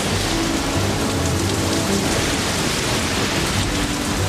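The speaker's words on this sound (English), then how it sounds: "The storm came back." Heavy thunderstorm rain pounding down at the Petronas Towers construction site in Malaysia, a loud, unbroken hiss of downpour with low rumbling underneath, steady for the whole stretch with no voices.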